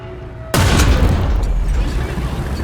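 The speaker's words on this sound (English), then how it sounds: "That was just a quick reaction shot." A Chinese M4A4 tank fires its cannon in War Thunder, one abrupt loud boom with a long rumbling decay, while engine drone continues underneath.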